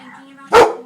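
A single sharp dog bark, close and loud, from a female dog, rising abruptly out of a quiet background and trailing off within a fraction of a second.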